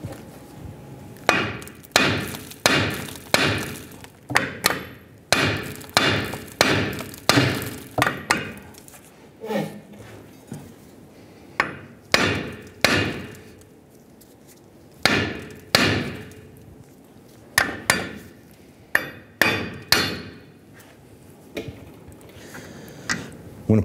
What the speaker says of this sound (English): I'm going to use a hammer and I'm going to strike the front side of the knuckle